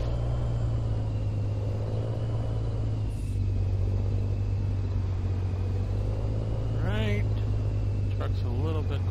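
Truck engine in American Truck Simulator, a steady low diesel idle rumble with a brief hiss of air brakes, with someone talking over it.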